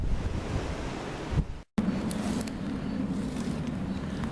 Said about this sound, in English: the wind's getting up again.